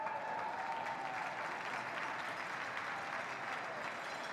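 A curling crowd at a Battle of the Sexes match between Team Homan and Team Mouat claps steadily, a dense wash of applause that holds at an even, fairly loud level for about four seconds.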